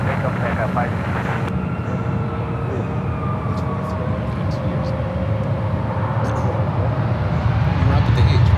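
A plane takes off from runway 1 left at San Francisco airport, its engines a loud, sustained broadband roar that grows stronger toward the end. Radio chatter and voices are heard over it.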